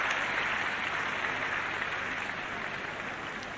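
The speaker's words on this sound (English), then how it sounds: "cheering as they leave the court." Crowd at the 1978 Wimbledon women's singles final applauding as the players leave the court, a dense, even wash of clapping held at steady volume.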